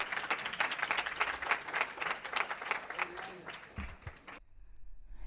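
An audience at a Texas Senate District 4 candidate forum applauds the moderator with a steady crowd clapping that runs for about four seconds, then cuts off abruptly into near silence with a brief low thump.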